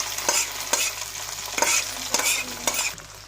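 Garlic sizzles in hot oil alongside reddened chillies as a tempering for vegetable khichuri, with a steady crackle and quick stirring scrapes repeating every half second or so, close and fairly quiet, no voices.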